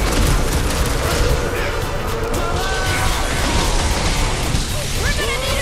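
Gunfire and combat noise in Marvel's Guardians of the Galaxy: dense, loud bursts of shots mixed with mechanical clatter and crashes, running without a break under voiced game dialogue.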